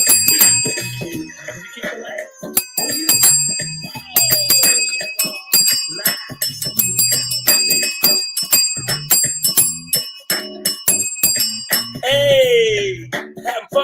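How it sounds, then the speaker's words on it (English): A bell solo on a morning show, with bright, repeated metallic dings and jingles ringing over music and voices in a lively, rhythmic studio performance. "Bell solo."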